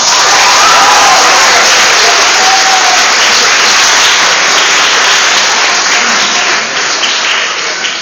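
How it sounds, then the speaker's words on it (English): Graduation audience applauds a departing Grade 8 teacher: dense, sustained clapping from a large crowd fills the whole stretch at steady loudness, easing slightly near the end, with no voices over it. "So please give her a big round of applause"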